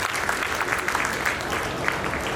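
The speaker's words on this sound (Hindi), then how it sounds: "एक बार जोरदार तालियां आप सभी लोग पीछे तक उठना।" Enthusiastic audience applause fills the hall at a Durga Puja poetry gathering, a dense, steady patter of many hands clapping close by, with no voices rising above it.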